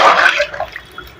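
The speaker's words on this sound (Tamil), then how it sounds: "இப்போ அந்த தண்ணியை ஊற்றிடுறேன்." Water poured from a vessel into a pressure cooker of mint rice, a short loud splash and gush that quickly fades to a few faint trickles.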